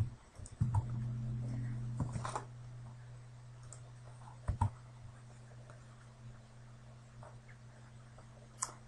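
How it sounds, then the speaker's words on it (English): A few faint clicks from computer keys as the delete key is pressed, sparse and quiet over a steady low electrical hum. "I'm hitting the delete button on my keyboard."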